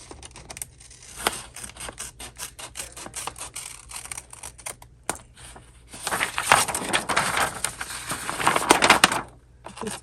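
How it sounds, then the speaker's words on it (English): Scissors cut fabric for a sewn glasses holder, with irregular close snips and crisp clicks, sparse at first and then a denser run of rustling, crunching cuts. "I'm going to cut this out right here"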